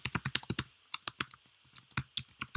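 Quick clicky keystrokes on a computer keyboard as a username is typed, in uneven bursts with short pauses, close and fairly quiet.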